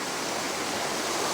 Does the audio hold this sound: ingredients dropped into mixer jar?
no